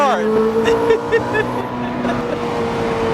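A Ferrari F430 Coupe cruising with a steady engine drone and gear whine, people talking over it inside the cabin throughout.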